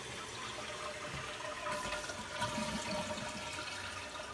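A Mansfield toilet flushes fully after its fill valve and flush valve were replaced, a steady close rush of water draining from the tank that swells louder partway through and keeps going without any talk.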